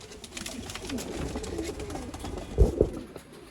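Old line top quality pigeon giving soft, close cooing calls, a low warbling murmur that ends in two louder coos near the end.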